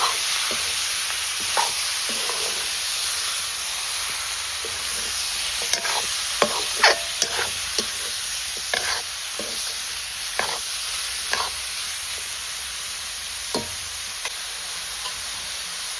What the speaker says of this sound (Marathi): आणि या फोडणीमध्ये छानपैकी परतून घेते